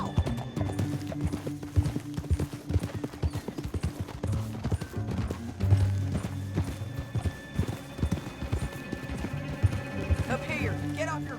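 Horse hooves clip-clop and gallop steadily across a canyon in Red Dead Redemption 2, close and rhythmic under a dense mix of game music and ambience, with a brief whinny near the end.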